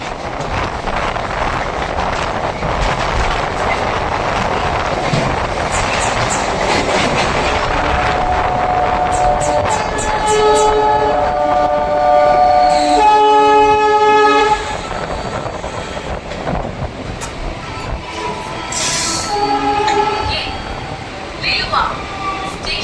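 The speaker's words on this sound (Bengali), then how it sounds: "এই মুহূর্তে আমাদের ট্রেন প্রবেশ করছে লিলুয়া স্টেশনে।" A Howrah–Shirampur local train running toward Liluah station, with its steady loud rumble and clatter and a long horn blast sounding partway through, while a person talks over it.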